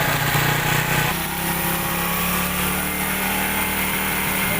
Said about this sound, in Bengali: এখন আপনাদের ইঞ্জিনের সাউন্ডটা শুনে